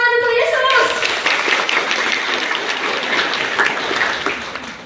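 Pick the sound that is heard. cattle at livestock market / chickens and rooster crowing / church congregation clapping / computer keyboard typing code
church congregation clapping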